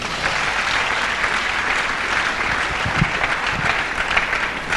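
Loud, dense applause from a church congregation acclaiming the Lord Jesus, steady and unbroken for the whole stretch.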